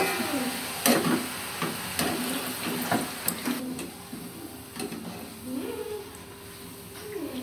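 Boondi drops of batter frying in very hot oil make a soft, continuous sizzle, close by, broken by sharp clicks and scrapes of a utensil at irregular intervals.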